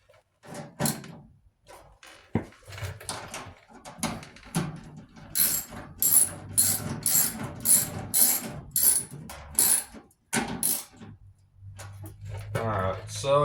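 Rapid metallic ratchet clicking comes in quick bursts while bolts are removed from a clothes dryer being taken apart, set among knocks and handling noises, with someone talking throughout.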